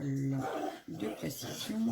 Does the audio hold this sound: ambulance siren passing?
no